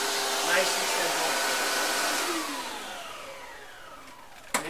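A PRO 12 upright vacuum cleaner runs with a loud, close motor whine and airy rush that shifts in pitch as it moves, fading somewhat before a brief bump near the end.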